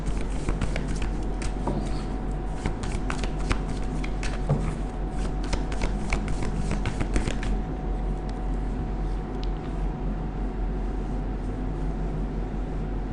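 Tarot cards being shuffled, a run of quick, close riffling and flicking sounds for several seconds that then stops, leaving quiet room background.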